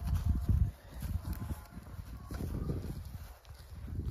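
Hooves of a heavy draft horse in Ukraine clop on the ground nearby, a loud burst of steps at first and then a softer, uneven walking rhythm, without talk.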